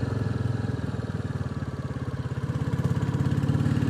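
A Royal Enfield Classic 350 single-cylinder motorcycle rides in second gear, its steady rapid thump loud and close throughout, swelling slightly toward the end with no talk.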